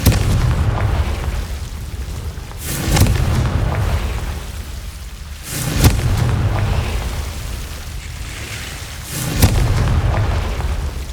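Confringo blasting spell going off in Hogwarts Legacy, three loud explosive bursts about three seconds apart, each with a sharp crack and a deep rumbling tail.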